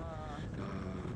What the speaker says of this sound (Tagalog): ay napakalakas ng hangin, right?